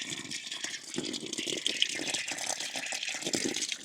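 Water rushing steadily from a garden hose at an RV, filling a fresh water tank, a continuous splashing hiss that stays fairly even for several seconds with no talking.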